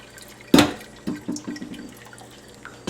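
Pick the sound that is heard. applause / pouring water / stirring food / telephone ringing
pouring water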